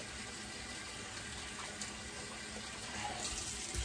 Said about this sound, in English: going for the quick rinse here